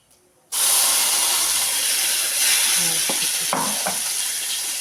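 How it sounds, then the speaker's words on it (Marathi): Ground cashew masala paste hits a hot pan with a sudden loud sizzling hiss after a brief quiet start, then sustained frying with a few spatula stirs. "ह्याला छान असं परतून घ्यायचं याला कच्चं वाट वास सुटेपर्यंत"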